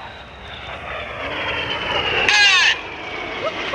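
Red Arrows jets cross head-on in an opposing carousel turn at an air show, a broad roar swelling toward a loud close pass with a sharp rushing burst before easing off; crowd chatter runs faintly beneath.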